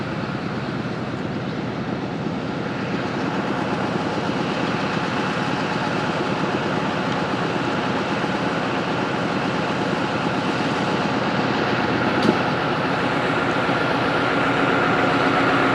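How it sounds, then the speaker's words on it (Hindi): A ZCO20 General Electric 2000 hp diesel locomotive hauls the Sialkot Express through heavy rain, a steady low rumble with rolling rail clatter building gradually, and a brief sharp click near the end. "एक जनरल इलेक्ट्रिक डीजल इंजन है जो कि 2000 हॉर्स पावर का है।"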